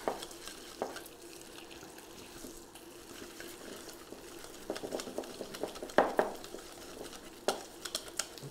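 Egg, egg yolk, parmesan and pecorino being mixed together in a bowl, with soft, faint scraping and liquid stirring and scattered light clinks of utensil on dish, fairly quiet and close, with no talking.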